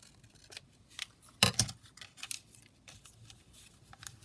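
Scissors cut through a book page in a few short, crisp snips with brief pauses between them, close and fairly quiet.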